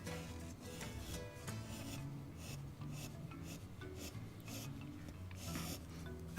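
A wide chisel shaves wood while carving a wooden owl, giving faint repeated rasping scrapes in quick irregular strokes, close up and quiet.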